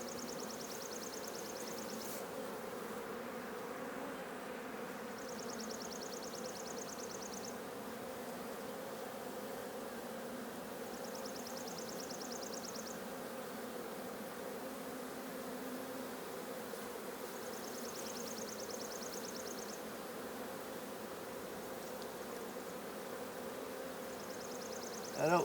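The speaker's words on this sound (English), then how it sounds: "That's a lot of bees." A large mass of honeybees in a swarm hive being inspected hums with a steady, continuous drone throughout, with a faint high chirping or whine recurring at intervals over the buzz.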